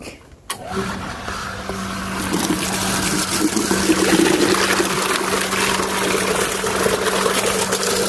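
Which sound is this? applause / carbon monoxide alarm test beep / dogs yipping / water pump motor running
water pump motor running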